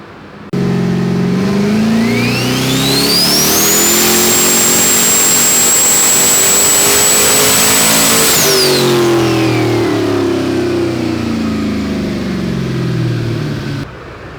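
A Ford Fairmont engine on a dyno at boost setting B revs up hard, a rising whine climbing and holding at a loud sustained peak before dropping back down as the revs fall, all close and without talk.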